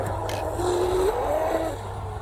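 An RC boat with a stock 2000kv 3650 motor on a 4S battery makes a full pass on open water, its electric whine rising and falling in pitch as it speeds by under steady wind noise.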